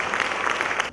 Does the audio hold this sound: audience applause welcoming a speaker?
yes